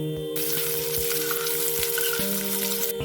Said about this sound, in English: So till the onions gets fried, we'll get ready with the masalas here.